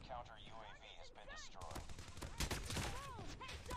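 PP19 submachine gun fire in a first-person shooter video game, with quick bursts of shots mixed with other game sounds and a voice talking over them.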